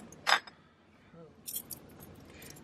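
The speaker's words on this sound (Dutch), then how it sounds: "Het is moeilijk je sleutel pakken." Keys jangling as a key is grabbed: a sharp metallic clink up close, then a few softer jingles a second later, over faint background noise.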